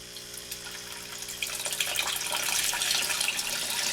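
A filter pump aerates and circulates water in an IBC tote tilapia tank, giving a steady close splashing and bubbling wash that grows a little louder midway and runs with no voices.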